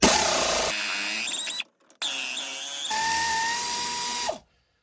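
Ratchet wrench clicking off a 14 mm bolt on a 2003 Mazda Protege front end, close and fairly loud, two bursts of ratcheting separated by a brief pause, no voices.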